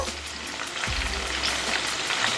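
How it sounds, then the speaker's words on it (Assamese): Paneer pieces sizzling steadily in a pan as they are flipped to the other side, a continuous close frying hiss with a brief low scrape partway through. "পনীৰখিনি মোৰ এটা সাইডেদি অকমান হালধীয়া নিচিনা হৈ গৈছে। এতিয়া মই আনটো সাইডেদি লুটিয়াই দিছো"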